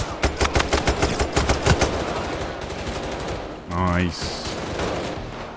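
A light machine gun in Payday 3 rattles off a fast, even burst of about a dozen sharp, loud shots. The burst then stops, and a brief spoken remark follows amid lingering noise.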